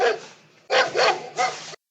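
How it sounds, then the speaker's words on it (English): A dog barks four times close by: a single bark, then after a short pause three loud barks in quick succession, with no other sound around them. "Dog."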